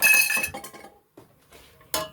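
A metal kitchen strainer clinks and rattles against dishes and utensils while potato soup is being made, with a burst of clattering at the start, a short pause, then a final sharp clink.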